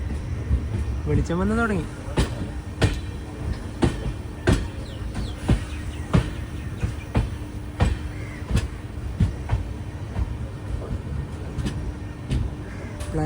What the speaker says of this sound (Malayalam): ട്രെയിൻ ഇതാ രാമേശ്വരം റെയിൽവേ സ്റ്റേഷനിലേക്ക് എത്തുകയാണ്